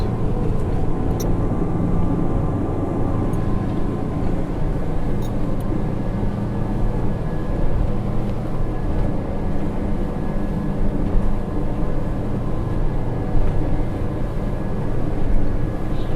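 An XO 270 cabin boat with an outboard cruises at 3,500 RPM and 21 knots, giving a steady, loud engine drone with rushing water and wind noise, unbroken and without voices.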